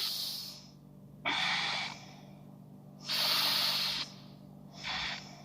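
Heavy breathing during a power vinyasa yoga pose: three long, forceful breaths pushed out through the mouth, airy and hissing, close to the microphone over a faint low hum, with no talking.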